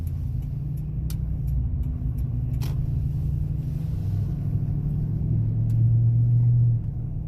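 A 2015 Toyota Tundra with a solid axle swap drives on the road with a steady engine rumble and tire noise, a few light clicks near the start, and a brief rise in engine drone near the end.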